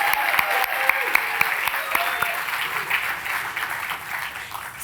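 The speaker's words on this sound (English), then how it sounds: "Let's give them a round of applause." An audience at a benefit gala applauds with a full, sustained round of clapping under the room's echo, with a few sharper claps standing out, before the applause gradually thins.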